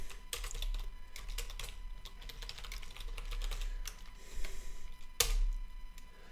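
Quick, irregular keystrokes on a computer keyboard as a command is typed into a terminal while setting up a cloud server, close and clear, with a sharper clack near the end.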